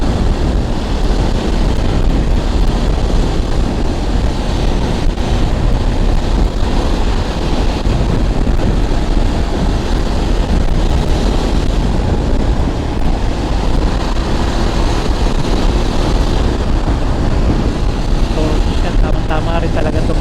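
A BMW F800 GS adventure motorcycle cruising on a highway at 130 km/h produces a loud, unbroken blast of wind and road roar that stays level for the whole stretch, with no voices heard.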